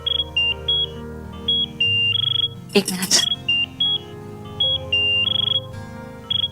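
A phone ringtone chirps in a repeating electronic pattern of short high tones, interrupted once by a burst of noise and a brief spoken remark.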